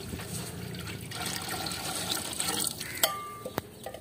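Water is poured into a cooking pot of hot oil, making a steady, close rushing and splashing sound that ends with a few sharp clinks.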